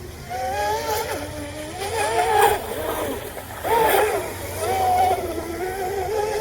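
A twin-motor Deltaforce 29 RC boat with dual counter-rotating 4316 props runs at full throttle on open water. Its motors whine steadily with rising and falling surges, and splashing hull noise runs underneath.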